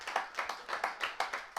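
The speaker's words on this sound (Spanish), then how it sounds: "Dale un aplauso fuerte al Rey de Reyes." A church congregation in Querétaro claps in praise during a worship service, a steady rhythm of sharp hand claps roughly three to four per second, close and fairly loud, with no talk over it.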